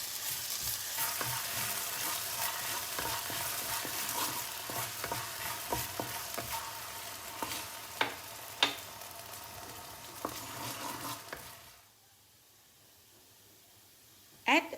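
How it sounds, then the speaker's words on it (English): Garlic sautéing in a pan for a stir-fried egg and Bunapi mushroom dish gives a steady close sizzle with scattered clicks of stirring, then drops to near quiet near the end before a brief clatter. "And now I'm going to saute the garlic."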